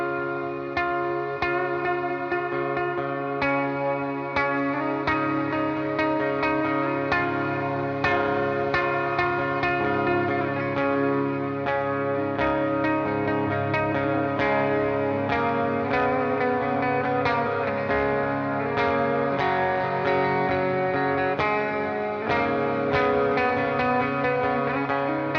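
Electric guitar played through an IK ToneX shimmer effect tone, sustained chords blooming into a wash of bright, echoing, reverb-soaked harmonics for about twenty-five seconds, no voices.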